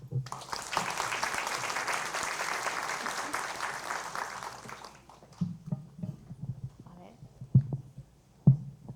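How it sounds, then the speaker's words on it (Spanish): An audience at a Latin American criminology conference claps loudly for about five seconds before the applause cuts off, leaving a quiet room with scattered knocks and microphone handling noises. "Palmas, por favor."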